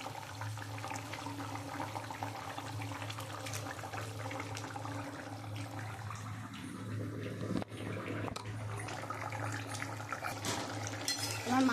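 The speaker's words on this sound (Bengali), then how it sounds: "আমার তো মাছের ঝোলটা একদম ফুটে গেছে, আলুটাও গলে এসছে" A pot of fish curry with potatoes simmering, a steady low bubbling and watery churn that continues evenly throughout at moderate volume.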